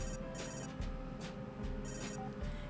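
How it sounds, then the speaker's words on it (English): A cell phone ringtone from the video game Later Daters, bursts of bright electronic ringing repeating in an even rhythm about twice a second, fairly quiet, over a low steady background tone. "Crystal pulls out her cell, hits ignore, and repockets the phone"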